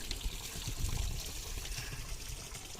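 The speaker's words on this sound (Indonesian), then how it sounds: "Wow. Keran air guys. Mantap tuh. Nyemprot." An outdoor water tap sprays at a campsite on Mount Halimun Salak, making a steady, close gushing and splashing flow that runs throughout, with no talking.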